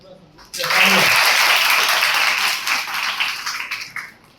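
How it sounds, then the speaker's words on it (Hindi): Schoolgirls clap together at a Raksha Bandhan event honouring soldiers in Ujjain, Madhya Pradesh, a loud sustained burst that starts abruptly after a moment of quiet and thins into scattered claps toward the end. "बेटा एक बार ताली बजा दो।"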